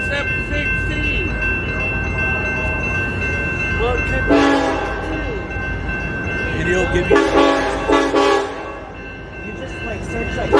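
A southbound Union Pacific freight train rumbles past in Northern California, sounding two loud blasts of its horn over the continuous roar of the railcars, while a person talks briefly nearby.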